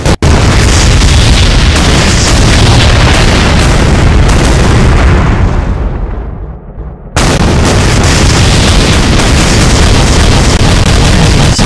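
A huge bomb detonates in Garry's Mod, a sustained roaring blast that fills the whole spectrum, fades into near silence for a moment, then erupts again just as loud for several more seconds.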